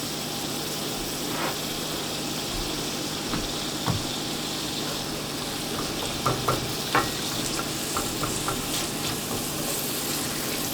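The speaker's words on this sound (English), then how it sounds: "Now we got some sizzling going on." Beer batter onion fritters sizzle and fry steadily in a pan, a dense close hiss with occasional pops and crackles, with no voices over it.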